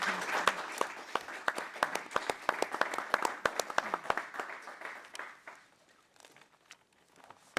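Audience at a 2024 Indiana 3rd Congressional District debate applauds the candidates, a moderate patter of many hands clapping that thins out into scattered claps toward the end.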